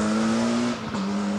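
A rally car on a live stage of the 1993 Network Q RAC Rally roars past at high revs, its engine note dipping briefly during a gear change before climbing again, loud and near.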